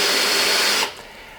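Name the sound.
drill with brush agitating car interior carpet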